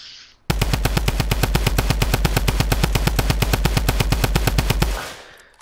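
Sustained automatic gunfire in the video game Fortnite, a rapid, evenly spaced burst of loud shots lasting several seconds before cutting off abruptly.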